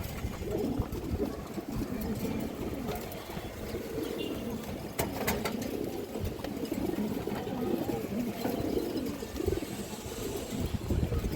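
Red khaki male pigeons, an old-bloodline senior breeder, coo with low murmuring calls in a loft, mixed with shuffling and occasional clip-clop-like taps under a steady busy background.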